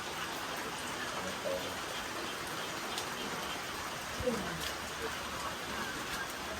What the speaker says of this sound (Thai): ฝนตกอยู่